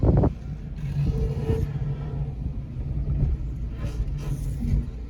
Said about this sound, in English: I'm just gonna pull into my driveway.